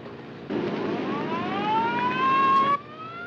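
A loud police car siren wails and rises in pitch for a couple of seconds, then cuts off abruptly.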